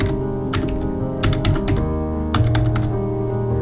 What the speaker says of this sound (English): Just type your new password in here.